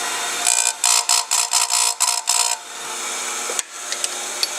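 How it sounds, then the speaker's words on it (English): A grinder sharpens a chainsaw chain one cutter at a time, giving a run of about eight short, even grinding bursts. The bursts are followed by a quieter, steady mechanical hum with a few faint clicks. "we're going to grind this chain"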